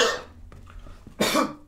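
Two close, loud coughs, one at the start and one near the end, separated by a quiet gap with faint breathing.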